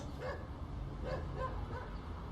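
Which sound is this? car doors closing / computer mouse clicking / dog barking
dog barking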